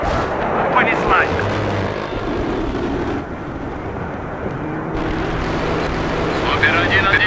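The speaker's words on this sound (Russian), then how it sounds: "Авиаудар через 5 секунд" Airstrike explosions in the Battlefield 3 video game roll out as a dense, continuous rumbling barrage with deep booms and a droning aircraft-like hum, loud and sustained throughout, with radio-style voices over it.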